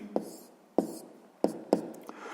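Writing in a math notebook, several short distinct pen strokes or taps in quick succession, close and quiet, with no talking.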